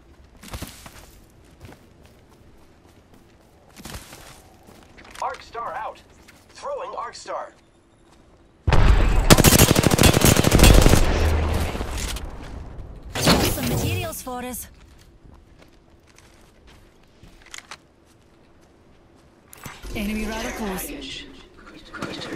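Bursts of gunfire in the Apex Legends Arenas mode, a loud sustained volley and a second burst cutting through, with a later shorter burst, amid quieter game sounds and a player talking.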